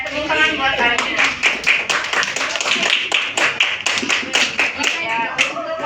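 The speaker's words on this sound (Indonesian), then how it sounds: "Tepuk tangan buat Amira" Classroom applause for a student at an elementary school, a steady patter of many hands clapping close by, with voices mixed in.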